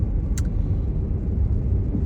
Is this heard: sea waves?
no